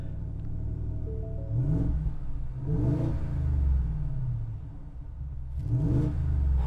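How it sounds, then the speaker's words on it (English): A 2023 Ford F-150 Raptor R's supercharged V8 revs up several times in rising surges, a steady low rumble underneath with a faint supercharger whine climbing as it accelerates. "that supercharged V8. It makes like a whistle sound as it revs up."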